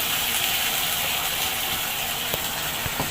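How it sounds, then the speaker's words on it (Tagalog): Water is poured into a cooking pan of sautéed cabbage and sardines on a used-oil stove, a steady loud hiss and gush filling the whole stretch with a few faint clicks. "lagyan natin konting tubig"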